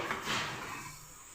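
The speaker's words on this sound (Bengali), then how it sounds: "এখন ঢাকনাটা নামিয়ে দিলাম।" A pot lid is lifted off with a soft, brief sliding scrape that fades away within a second, quiet and close.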